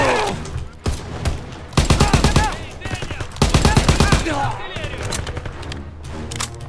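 Rapid bursts of automatic gunfire crackle in dense volleys in the video game Call of Duty: WWII, loud and close, with shouting voices mixed in between the shots.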